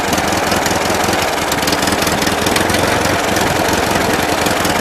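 A 1941 Ford 9N tractor engine idling roughly after an idle adjustment, loud and close, with a steady uneven chugging and knocking rhythm running without pause.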